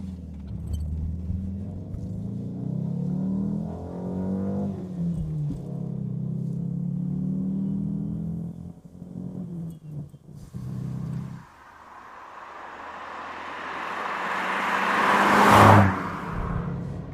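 A Lancia Gamma Berlina's engine drones low while driving, revs climbing and dipping, then a rising whir builds toward a sharp peak near the end, heard from inside the car.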